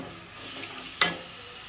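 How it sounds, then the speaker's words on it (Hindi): Raw chicken, about a kilogram, frying in a pan for korma, with a steady low sizzle and a sudden louder hiss and clatter as pieces hit the hot oil about two-thirds of the way through. "ये सारी चिकन हम डालकर इसमें बहुत अच्छी तरह से भून लेंगे"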